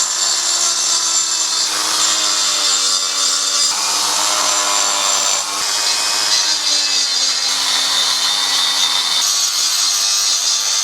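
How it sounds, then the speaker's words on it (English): Dremel rotary tool grinding powder coat off a KTM 250 SX motorcycle part, a continuous loud high-pitched whine with scraping grit and slight pitch dips as pressure changes, close and alone. "So we're just going to use the Dremel again for that."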